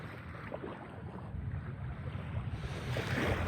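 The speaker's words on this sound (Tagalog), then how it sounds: "bawat alon lang ng dagat" Soft, steady wash of ocean waves with a low rumble, swelling slightly louder toward the end; no voices.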